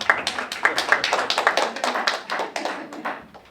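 Brief burst of applause from a small town meeting audience in Suffield, a few hands clapping in quick uneven rhythm, moderately close and fading toward the end.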